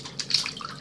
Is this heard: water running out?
yes